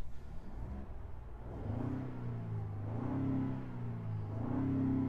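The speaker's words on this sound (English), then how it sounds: "Give it a couple revs." A 2024 Ford Bronco Wildtrak engine revs up a few times in steady rising-and-falling swells, a close, low rumble that climbs and settles.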